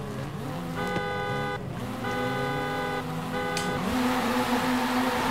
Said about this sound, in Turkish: Ya kornayı çaldı.